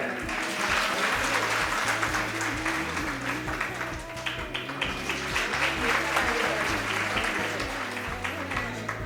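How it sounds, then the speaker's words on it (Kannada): Audience applause at a women entrepreneurs' gathering, sustained dense clapping from a room full of people with music playing underneath, steady throughout. "ಇಷ್ಟೇನಾ ಚಪ್ಪಾಳೆ?"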